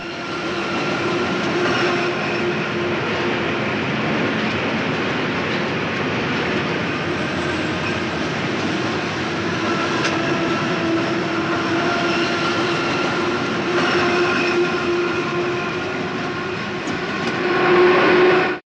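A metro train rolling through a film chase scene, a continuous rumbling ride with a steady tonal hum and clattering, holding even throughout and swelling slightly near the end.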